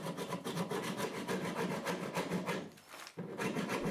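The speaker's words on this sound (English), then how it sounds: "I decide to roughen the epoxy surface with a rasp." A rasp scrapes rhythmically back and forth across a cured epoxy surface on a boat, steady close rasping strokes with a brief pause near the three-second mark before the strokes resume.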